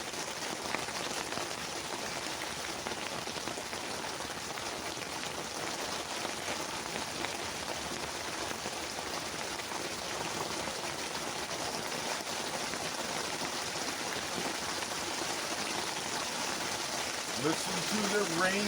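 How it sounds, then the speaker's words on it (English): Steady rain drumming on a roof, a dense continuous patter heard from indoors, constant and fairly loud with no voices over it. "Listen to the rain coming down on the roof."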